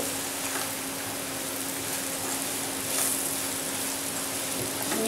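Pieces of liver fry in a pan and get stirred now and then, making a soft, even sizzle with a faint scrape of the spoon partway through.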